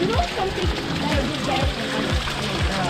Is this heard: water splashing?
yes